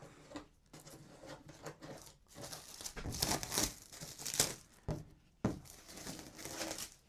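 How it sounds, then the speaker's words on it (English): Protective wrap is peeled and crumpled off the large painted body of a Primal Raminator RC car, giving continuous close crinkling and rustling with sharper tearing bursts, fairly quiet throughout. "I imagine this thing might be a little bit of a pain to unwrap too"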